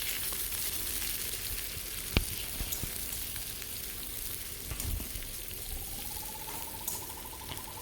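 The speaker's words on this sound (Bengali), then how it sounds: "এবার পেঁয়াজটাকে আমি ভালো করে মেরে নেব।" Onions frying in oil in a wok for a prawn curry, giving a steady close sizzle throughout, with a sharp clink near the start and faint stirring noises; no one speaks.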